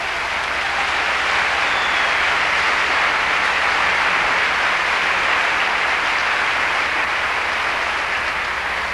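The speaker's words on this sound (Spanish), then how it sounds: "Un aplauso al Señor." Steady, dense applause from a church congregation fills the whole stretch at full loudness, a continuous wash of many hands clapping with no pauses and no talk over it.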